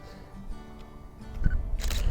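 Single-lens reflex camera shutter firing once outdoors, a short sharp mechanical click and clack near the end, close, with quiet background rumble.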